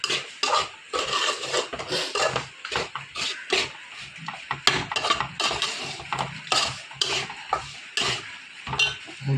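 A spoon scrapes and clatters against a pan while pork roast is stirred and mixed, giving a steady run of close, uneven scraping strokes over a faint sizzle.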